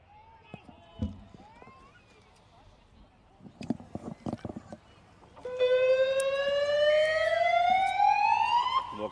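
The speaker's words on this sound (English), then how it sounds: "You can hear the siren in the background." A loud rising siren blares across the second half at a touch football grand final between Manly Warringah and Ryde Eastwood, following scattered knocks, thumps and faint voices from the field beforehand.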